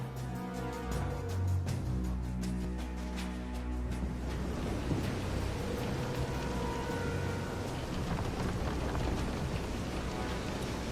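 Heavy storm rain hisses steadily in Visions of Mana, with a boat pitching on rough water. A dense, even wash of rain and surf runs throughout, and a low rumble sits underneath.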